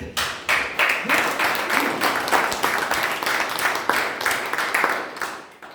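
A small Toastmasters club audience claps for a speaker at a meeting, a brisk, moderately loud patter of many separate hand claps that carries on steadily and fades slightly at the end.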